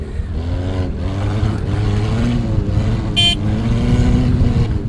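Race prototype car engine heard on board during a cross race at the Antoing Cross Festival, a steady loud drone with shifting revs throughout, a brief high tone bursting through near the middle.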